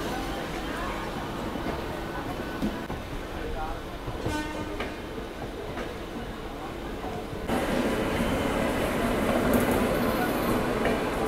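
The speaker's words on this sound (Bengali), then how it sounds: "বন্ধুরা এই পাশ থেকে ঢুকছে ক্রিয়া ইয়োগা এক্সপ্রেস, হাটিয়া থেকে হাওড়া।" The Kriya Yoga Express, Hatia to Howrah, rolls into a station with a steady rumble, a brief horn, and louder clattering wheels as it draws near, with a voice talking over it.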